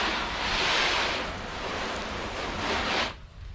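Water running and sheeting off a car finished with 303 Graphene Nano Spray coating, a broad hissing rush that swells and ebbs for about three seconds before cutting off abruptly into quiet.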